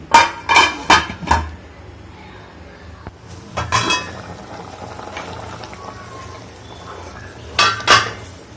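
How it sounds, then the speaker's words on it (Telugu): A metal lid is set onto a pot of mutton masala curry, with several bright clinks and clatters in quick bursts, then quieter gaps and a final pair of ringing knocks over low cooking noise. "ఇప్పుడు 10 నిమిషాలు మూత పెట్టుకుందాం"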